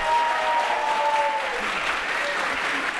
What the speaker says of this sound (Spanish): Otro aplauso para orgullosamente sergista, hermano.